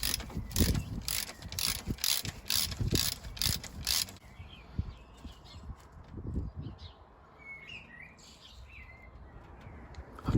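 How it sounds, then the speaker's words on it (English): A ratchet clicks in quick repeated bursts while old spark plugs are undone on a Wartburg Knight, followed by quieter handling and faint birdsong in the background, with no talk. "I'm just going to clean them up, take these leads off, and then undo them and change them for the new ones"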